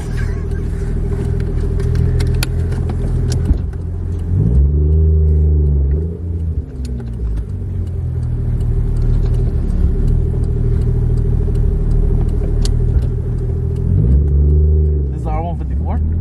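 Deep, loud engine rumble from a 1JZ VVT-i Toyota Supra MK3, with rising and falling revs as the car pulls away, heard from inside the cabin while people talk.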